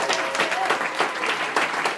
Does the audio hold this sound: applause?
yes